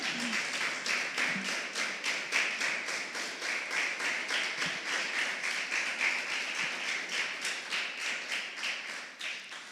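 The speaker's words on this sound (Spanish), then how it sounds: "Vamos a darle una ofrenda de palmas al Señor." Steady rhythmic clapping from a church congregation, many hands together in a quick repeated beat, sustained for several seconds without talk.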